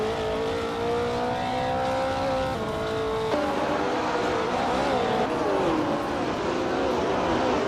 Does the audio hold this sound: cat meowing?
no